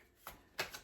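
Tarot cards being shuffled by hand: two short, papery riffles about a third of a second apart, close and fairly quiet, with no talking.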